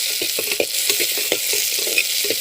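Broken dried red chillies and spices sauté in hot oil for a balloon vine herbal rasam, giving a close, continuous sizzle with crackling spits and stirring scrapes and no talking.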